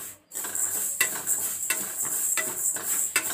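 Dry spices being roasted in a kadhai on a gas stove, a spoon scraping and stirring in quick, repeated strokes against the metal pan, close and steady.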